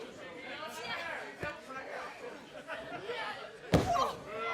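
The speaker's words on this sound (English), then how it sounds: "Kelly now just slamming Willow's face into the mat" A pro wrestler's face is slammed into the mat during a women's wrestling match, a sharp heavy thud late in the clip, standing out over steady crowd chatter and ongoing commentary voices.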